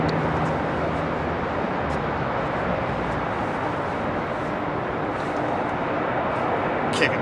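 A former KLM Boeing 747 Combi freighter with CF6 engines roars at Heathrow, a broad, steady jet rumble with constant intensity and no clear speech over it.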